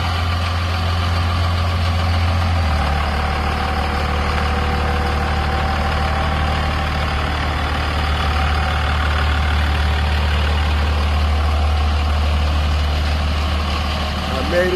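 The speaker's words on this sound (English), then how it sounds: "This is the truck." A racing pigeon club's training truck idles steadily in a low, heavy rumble with a faint mechanical knock, its pitch dropping slightly a few seconds in, under distant background voices.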